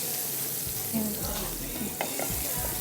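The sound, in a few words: paneer frying in butter in a pan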